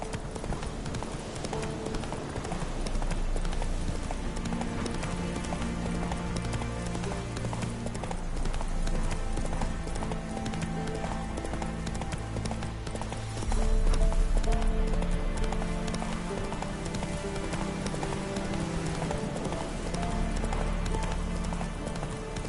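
In The Witcher 3: Wild Hunt, a horse gallops with rhythmic clip-clop hoofbeats beneath a swelling game music score, growing louder partway through.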